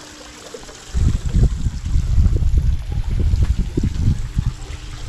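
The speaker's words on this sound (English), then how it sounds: "We're stuck next to the waterfall" A waterfall rushes close by beside a stalled amusement ride, a dense low roar that starts abruptly after a moment of quiet and keeps pouring steadily, with no talking.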